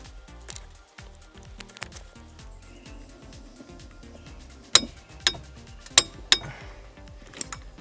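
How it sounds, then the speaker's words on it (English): A torque wrench set to 50 foot-pounds tightens clutch and flywheel bolts on an Eclipse GSX during an Exedy racing clutch install, giving soft ratcheting ticks and then several sharp metallic clicks close to the microphone. "I wanted to get you a slightly better view of the torquing action"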